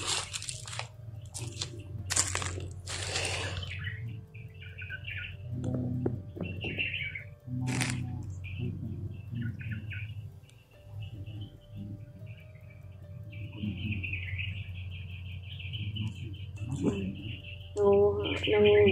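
Birds chirping outdoors, sharp bright chirps and calls in clusters, fairly close, interspersed with crunching sounds and people talking throughout.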